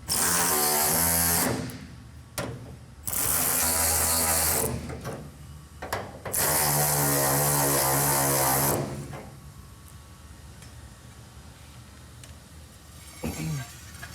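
A tool loudly tightens bolts on the 440 Six Pack engine of a Challenger, with three long buzzing bursts close up that are broken by short pauses, then a quieter stretch with a faint click near the end.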